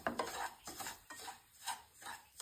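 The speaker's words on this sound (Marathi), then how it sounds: "छोटा रवा बारीक जो आहे तो एक वाटी आपण पहिला भाजून घेऊया" Fine semolina is stirred and roasted in ghee in a pan, a metal spoon giving soft, rhythmic scraping strokes against the pan, quiet and close with no talk.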